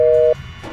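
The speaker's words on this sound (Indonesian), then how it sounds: "Tiba-tiba telepon itu terputus." A telephone line's busy tone after a call cuts off: one steady loud electronic tone lasting about a third of a second, then it stops, leaving faint room noise.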